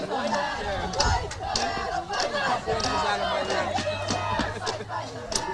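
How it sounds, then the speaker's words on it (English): Crowd of spectators cheering and calling out at a high school girls' softball game between Paulding and Tinora, a steady, fairly loud mix of shouts and chatter with sharp claps and cries throughout. "Here are Lady Rams cheering on Paige up at bat."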